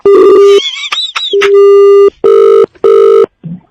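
Loud electronic phone tones beep in repeated bursts, ending in steady pulsed disconnect beeps that stop abruptly, with no talking over them.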